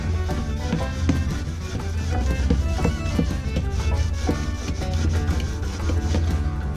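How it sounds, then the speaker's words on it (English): Repeated rubbing strokes as wax is worked into the textured surface of a thin Bradford pear wood platter, a close, steady rasping rhythm with no talk. "Make sure the wax gets into these textured details."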